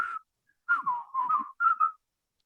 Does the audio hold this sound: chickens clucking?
no